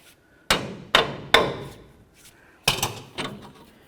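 A hammer strikes the top of an inner tie rod on a 2004-08 Ford F-150: about six sharp metallic knocks, three in quick succession, a pause, then three more, close and distinct with quiet between.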